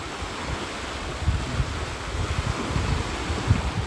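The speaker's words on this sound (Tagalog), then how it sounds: "At saka yung ingay ng dagat." Steady outdoor wash of sea waves on a UK coast with gusty wind buffeting the microphone, low rumbling surges rising and falling throughout, no voices.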